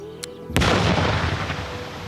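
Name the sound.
large explosion of a detonated miniature mine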